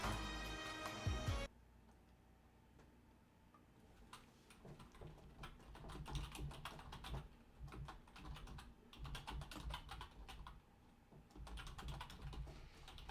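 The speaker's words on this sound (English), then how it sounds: "I'm sitting here typing away" Typing on a computer keyboard during a Magic: The Gathering game: quiet, rapid clustered key clicks in uneven bursts that continue for several seconds after a brief louder opening sound.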